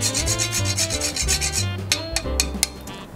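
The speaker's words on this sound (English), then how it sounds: "grate a little bit of fresh nutmeg" Fresh nutmeg grated over a Jerry Thomas eggnog, a rhythmic scraping of rapid, even strokes rubbing against a rasp, close and clear with no voices, slowing into a few sharper scrapes at the end.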